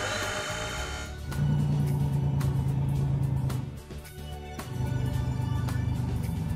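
Small cartoon cars drive out of a garage, a steady mid-pitched engine hum rising and holding loud, dipping briefly, then resuming; an earlier lighter motor sound opens the scene.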